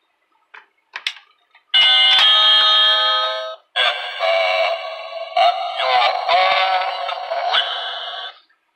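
A cheap Chinese novelty doorbell chime with a scratchy speaker, a few soft clicks, then loud bright electronic melody tones ringing close and alone, briefly pausing before playing on.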